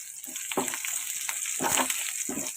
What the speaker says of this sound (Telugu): కరివేపాకు కూడా కొంచెం లైట్గా వేగుతుంది